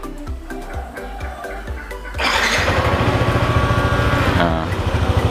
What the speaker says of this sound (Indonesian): Yang pertama tombol start untuk menyalakan motor